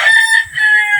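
A hungry chicken makes loud, close calls near its feeder, two or three sustained strained notes with short gaps between them and no voices.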